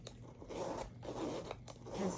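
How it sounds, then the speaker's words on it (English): A metal zipper on a Givenchy Antigona Nano handbag slides open in three quick rasping pulls, close and fairly quiet, with no talking. "Okay, let's try the zipper."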